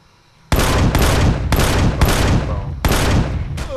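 Automatic weapon fire in the sci-fi survival game Empyrion, about six loud close bursts of rapid shots in quick succession after a quiet start, with no talking.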